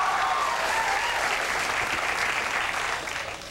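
A studio audience at a late-night talk show claps in a steady, dense wash of applause that holds evenly and starts to thin out near the end.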